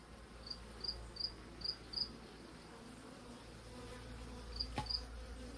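Honey bees buzzing around a hive frame in a Freedom Hive split being upgraded to a 10-frame nuc, a steady low drone with a few louder close fly-by buzzes, no voices.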